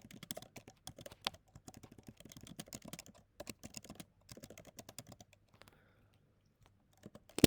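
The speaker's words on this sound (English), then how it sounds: "Let me type that." Fingers type on a computer keyboard in quick, quiet runs of clicks, pausing briefly between bursts, with the pace slowing toward the end.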